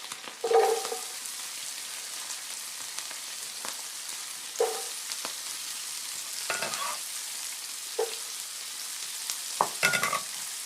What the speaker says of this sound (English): Really give that a stir to get those flavors all combined.